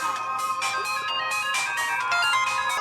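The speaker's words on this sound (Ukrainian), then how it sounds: "І і якийсь момент дзвонить Альфіс, яка вимикає лазери." Electronic phone ringtone as Alphys calls in the Undertale video game, a steady, bright melodic ring repeating in short bursts, fairly loud and alone with no talk.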